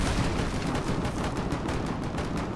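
Sustained gunfire in a tower-defense video game, a dense continuous barrage of shots at steady loud level with no talk over it.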